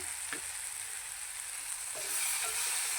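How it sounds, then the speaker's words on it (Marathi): Kokum dropped into hot oil in a pan for a bombil masala sizzles steadily at close range, with a few light clinks of stirring and a slight swell in the hiss near the end. "असं तेल सुटायला लागलं की त्यात आपण दोन तीन कोकमं टाकून घ्यायची"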